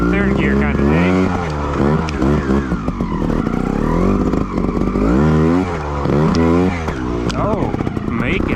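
A 2021 Sherco 300 ST Factory trials motorcycle revs in repeated bursts while riding through snow, its engine rising and falling close to the microphone.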